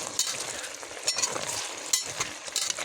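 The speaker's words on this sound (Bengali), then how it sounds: "তরকারিগুলো নেড়ে দিলাম।" Vegetables frying in a pan, stirred so that a steady hiss and sizzle swells with each scraping turn, close and continuous with no talk.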